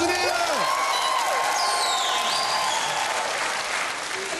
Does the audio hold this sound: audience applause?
yes